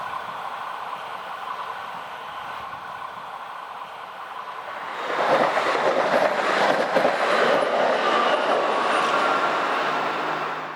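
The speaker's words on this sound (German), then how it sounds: "Die S-Bahn nach Schiers ist unterwegs nach Landquart, nächster Halt ist dann gleich Igis." A Rhaetian Railway electric commuter train rolls past close by near Landquart, Switzerland, a steady rumble swelling midway into a louder rush of wheels on rails with faint rhythmic clatter.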